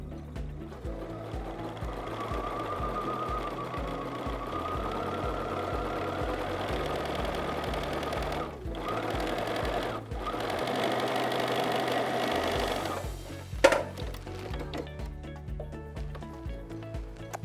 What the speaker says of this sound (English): I'm just going to line this up, and I'm just going to do a little bit of top stitching.